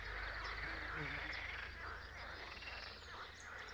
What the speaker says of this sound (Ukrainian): Жаби там заспівали, ви чуєте?